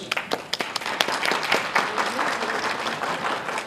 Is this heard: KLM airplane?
no